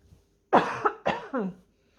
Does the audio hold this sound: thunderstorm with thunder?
no